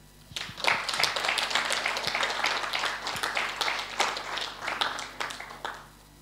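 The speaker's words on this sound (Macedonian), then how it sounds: "Треба аплауз на Исус тука му дадете." A church congregation applauding, a burst of many hands clapping that rises quickly, holds dense and lively for several seconds, then fades.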